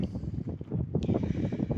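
Strong wind buffets the microphone outdoors in a garden, gusting in irregular rumbling bursts that stay loud throughout.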